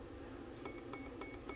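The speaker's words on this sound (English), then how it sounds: "we're going to go all the way to four beeps" A Flycolor ESC gives a short run of electronic programming beeps, about four quick evenly spaced tones, faint and close over a low background hum.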